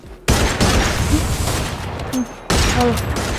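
Heavy gunfire bursts in a Free Fire match played with AWM sniper rifles only, loud booming shots filling the clip with a short break before another blast, game effects chiming over it.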